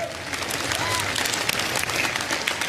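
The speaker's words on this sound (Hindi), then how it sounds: "अपने लिए भी तालियां बजा लीजिए आप लोग सबके सब यार." An audience at a stage event breaks into sustained, dense applause, a steady wash of clapping from a large crowd heard at moderate distance.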